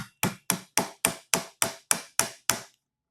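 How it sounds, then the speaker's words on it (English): A 3D printed stock tube on an HPA Saiga 12K being hammered into place: ten sharp, evenly spaced strikes in quick succession, close and loud with short decaying rings, then silence. "I could just kind of try hammering this down slightly"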